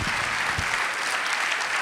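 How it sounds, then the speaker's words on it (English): Audience applause at an international architecture festival session, a dense, steady wash of many hands clapping that fills the whole moment without pause and with no voices over it. "Warm applause for Ashmona and the students"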